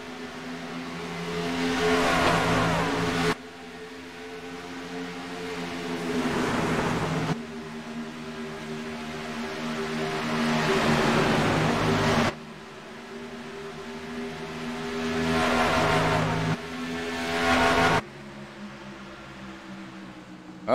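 Race cars and trucks roar through a sim racing video game event, the Texas 100, in repeated engine passes that swell and cut off abruptly, with a steady mechanical drone throughout and no talking.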